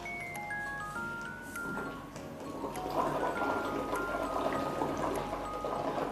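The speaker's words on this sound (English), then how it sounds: "we use a straw and blow the air into the cap until the bubbles come out" Air blown through a straw into a water-filled cap produces a soft, steady bubbling and gurgling that grows denser over a few seconds, faint and close, with no talk.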